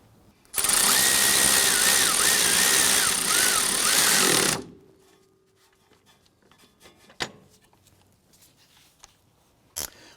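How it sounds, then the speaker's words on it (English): Power tool tightening the clevis fork bolt on a 2004-2008 Acura TL, a loud, close, steady whirring buzz lasting about four seconds that stops abruptly, followed by quiet and a couple of sharp metallic knocks. "We're going to go ahead and tighten that bolt down."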